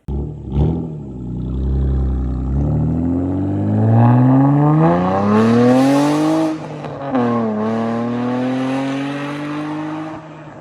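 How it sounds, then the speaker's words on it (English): A Honda Accord V6 engine revs up loudly, pitch climbing smoothly to a high whine, dropping briefly, then rising again before settling back down. "The V6 pushes out 268 horsepower, which on these cars is a lot."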